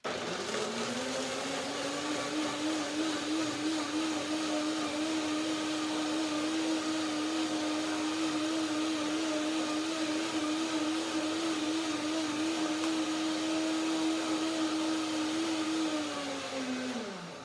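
A blender whirs continuously at a steady, loud pitch blending cashew cream, then winds down at the very end.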